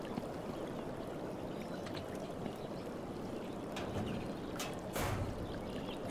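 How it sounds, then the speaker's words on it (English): Steady running water in a video game, Humanitz, a continuous rushing wash with a slight swell near the end. "hear running water somewhere."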